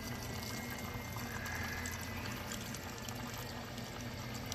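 Coolant circulating through the cooling system of a BMW X5 E70 during bleeding, routing back through the top hose; a steady, close, continuous liquid flowing and gurgling rush with no talk.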